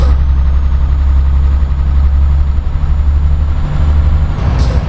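A Mercedes Actros 510 truck engine with a sound mod in a driving game, a loud, steady low idle rumble with a faint hiss near the end and no talking.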